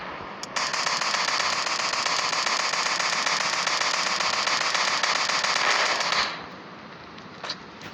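Rapid automatic gunfire in the mobile game Indian Bike Driving 3D, a dense, continuous crackling burst lasting about six seconds that cuts off abruptly, followed by a faint single pop.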